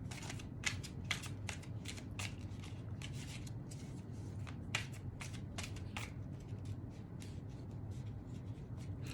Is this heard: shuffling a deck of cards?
yes